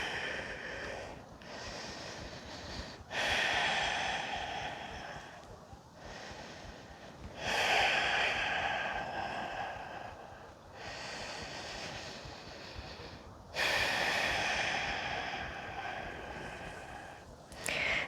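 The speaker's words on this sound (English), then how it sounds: "breathing." Deep, noisy breaths during a yoga class, in slow repeating cycles of inhales and exhales every few seconds, close and steady with no other sound.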